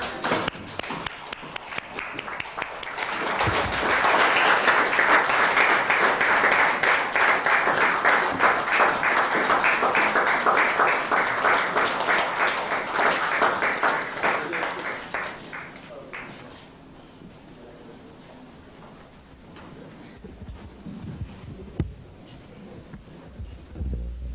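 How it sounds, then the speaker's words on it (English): Delegates at an IGAD ministerial youth policy conference stand and clap as the principal secretary comes up, a long, full burst of applause that builds, holds steady for about ten seconds, then tapers into scattered claps and room noise. "I would wish we stand and clap for him as he comes"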